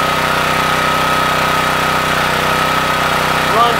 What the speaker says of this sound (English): got a Subaru pressure washer here